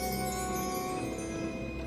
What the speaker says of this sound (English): The bell rings